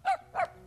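A cartoon dog in a kitchen gives two short, whining whimpers about a quarter second apart, close and fairly clear against a quiet background.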